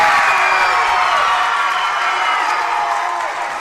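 A crowd at a varsity boys basketball game cheering and shouting in a loud, sustained roar that fades slightly toward the end, with applause mixed in.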